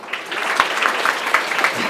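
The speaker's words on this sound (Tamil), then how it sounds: "கைத்தட்டணும் இந்த இடத்துல" Audience at a school's 50th anniversary golden jubilee ceremony breaks into brief, dense applause, steady clapping that fills the short stretch without pause.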